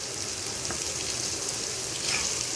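Jackfruit pieces fry in a pan with the lid off, giving a steady, close, fairly loud sizzle throughout, with a slight swell near the end as pieces are turned.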